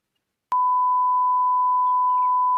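A single steady electronic phone tone, heard on a call to a switched-off number, starts abruptly after a brief silence and holds one clear pitch, loud and unbroken, to the end.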